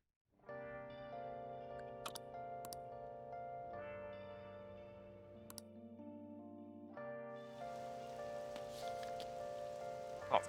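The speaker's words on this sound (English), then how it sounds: "Oh, it's raining again" Steady rain falling in the Persona 5 Royal video game, a soft continuous patter that runs under sustained game music with a few chime-like notes.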